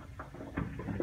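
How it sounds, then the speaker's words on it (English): Sediment inside the tank of a 1997 water heater knocks and patters in a house, giving soft, irregular low taps that are faint and close with nothing else over them. "That knocking sound you're hearing is sediment on the interior of the tank."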